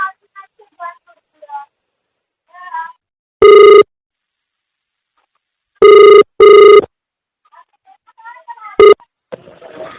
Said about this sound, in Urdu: ایک کال آ رہا ہے، ذرا میں ریسیو کال کر لیجیے